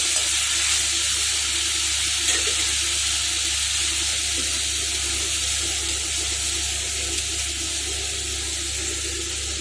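Paneer chips fry in a pan with salt and chili powder, giving a steady, even sizzling hiss that holds at a constant level throughout, with no voices.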